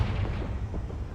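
A Confringo spell blast in Hogwarts Legacy rumbles as a short, heavy, low explosion, loud and continuous throughout, with no pause or talk.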